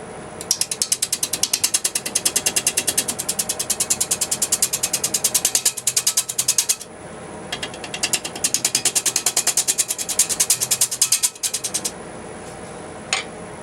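A large lathe turning a platter while a tool cuts into it gives a fast, steady ratcheting chatter that runs loud and close, breaking off briefly twice before stopping near the end.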